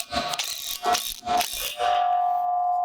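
Ratchet wrench tightening a large-diameter Tapcon anchor into concrete to mount a post, several close clicking ratchet strokes followed by a steady ringing tone as the anchor seats.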